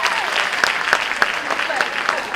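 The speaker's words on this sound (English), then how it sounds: "Girls, give her a big round of applause." Girls applauding at a life skills session for International Girl Child Day, dense rapid clapping from a group with a few sharper claps standing out, steady and close.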